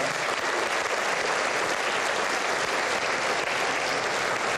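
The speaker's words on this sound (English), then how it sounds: "we deserve a big round of applause" A large audience applauds at a presidential bill-signing event, a dense, steady wash of clapping that fills the whole stretch at an even, loud level with no voice over it.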